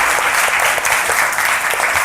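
Audience clapping loudly and steadily at a kids' general-knowledge quiz show with Bihar school students, a dense, continuous burst of applause with no talking.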